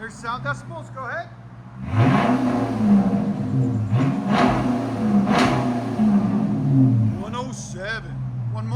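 A 5.7L V8 Chrysler 300 C fitted with NTR race mufflers idles, then revs hard in repeated swelling pulls from about two seconds on before settling, loud and close, with brief clicks at the start and end.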